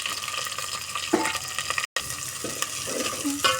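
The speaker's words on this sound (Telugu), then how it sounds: "పచ్చిమిరపకాయలు మంచిగా వేగేలాగా కలుపుకోవాలి." Green chillies fry and get stirred in a pan for tomato munigo, a close, steady sizzle with scraping stir strokes and a brief break midway, no voices.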